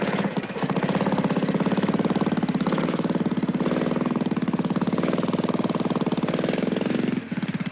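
Trials motorcycle ridden through a section, its engine a loud, steady, pulsing single-cylinder thrum that holds throughout and eases briefly at the end.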